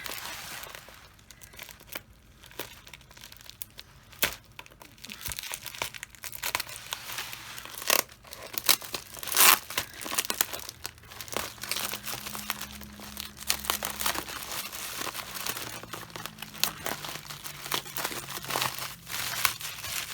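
Crinkly handling of bubble-wrapped packing with ripping and tearing of sticky tape, close and busy, with occasional sharper tugs standing out.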